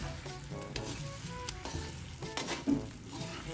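Bananas stirred in sizzling caramel for Filipino banana cue, giving a steady close sizzle with soft scraping stir strokes throughout, and no talking.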